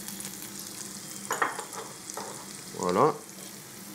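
Garlic and parsley sizzle in a frying pan, a soft continuous hiss with a few louder stirring scrapes and a brief burst near the end; a voice speaks briefly.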